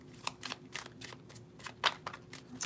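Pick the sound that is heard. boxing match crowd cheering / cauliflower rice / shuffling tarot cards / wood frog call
shuffling tarot cards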